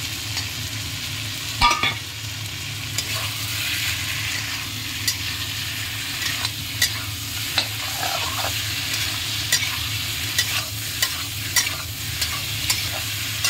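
Chicken kadai stir-fried in a pan with fried potatoes added, giving a steady close sizzle under a scrape of stirring and a few sharp clinks of a utensil against the metal pan, with no voices.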